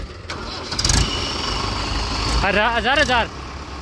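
Mahindra 575 and 585 tractors starting up, with cranking bursts followed by wavering engine roars as they catch and settle toward idle, close and loud beneath someone talking.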